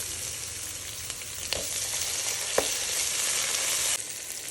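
Crushed garlic and green chilies sauté in hot oil with a steady, close sizzle and crackle, broken by a couple of sharp pops, with no talking.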